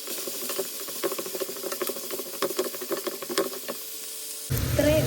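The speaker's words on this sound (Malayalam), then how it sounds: "1/4 ടീസ്പൂൺ മുളക് പൊടി, നല്ലോണം ഇളക്കി കൊടുക്കാം." Potatoes frying with chili powder in a pan hiss and sizzle steadily while a utensil stirs them in rhythmic scraping strokes, close and fairly quiet, ending with a sharper burst of noise.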